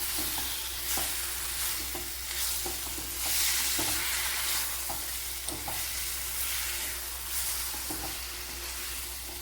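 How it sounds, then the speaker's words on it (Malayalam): Pomegranate pickle mixture being stirred in a pan after salt goes in: a dense, steady hiss of frying under regular soft scrapes of a spoon, heard up close with no voices. "നല്ലപോലെ ഇളക്കി യോജിപ്പിച്ച് കൊടുക്കണം."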